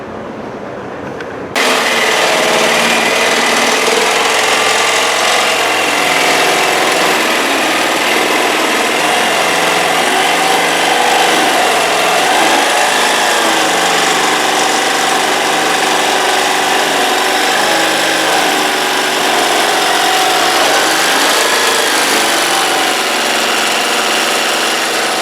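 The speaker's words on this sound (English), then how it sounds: "let Dani cut this with a jigsaw, and he can stay outside that line" A jigsaw cuts through a steel mower deck in one loud, continuous buzzing run that lasts nearly the whole stretch after a brief quiet start, with no talk.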